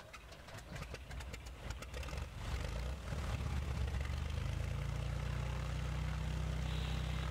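A single propeller engine in the Prepar3D flight simulator turns over and catches, then settles into a steady, droning idle with a low hum that holds loud and close to the end.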